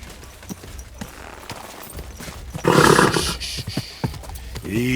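Horse hooves clip-clopping in the video game Kingdom Come: Deliverance II, a series of distinct close hoof strikes, with a loud burst of rushing noise midway and a horse's whinny at the end.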